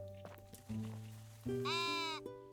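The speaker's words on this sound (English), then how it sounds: "Hello, sheep." Sheep bleat twice in the Tiny Glade village-building game, clear wavering cries over a soft tonal music background, fairly close and a little loud.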